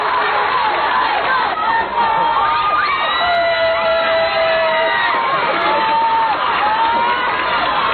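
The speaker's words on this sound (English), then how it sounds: "This is the sound of, the reception given to Michael Jackson." Large audience at a Michael Jackson appearance roaring, cheering and screaming continuously, dense and loud throughout with high-pitched shrieks rising above the crowd noise.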